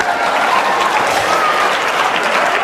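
An audience at a comedy show breaks into sustained applause, a thick even wash of many hands clapping loudly throughout with no voices rising above it.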